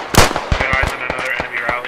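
Rapid in-game sniper rifle fire in a military shooter, a loud close burst of sharp cracks with repeated shots in quick succession over a busy battlefield background.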